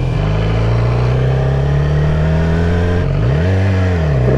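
A motorcycle engine revs while riding, a loud steady mid-pitched drone that dips and swells with a brief throttle blip near the end, heard close up without talk.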